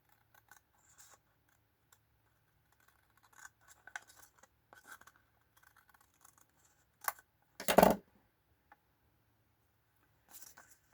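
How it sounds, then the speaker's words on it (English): Scissors trim the top edge off a sealed paper envelope: one short, crisp cutting burst near the end, preceded by faint scattered paper rustles and handling ticks in a quiet room. "Then we need to trim off the top just a tiny bit to make an opening there"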